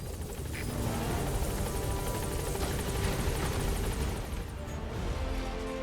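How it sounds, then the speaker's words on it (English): A helicopter's rotor chops loudly and steadily, close by, in the video game Metal Gear Solid V: The Phantom Pain, with a throbbing low roar filling the whole stretch; no one speaks. "Support helicopter has arrived."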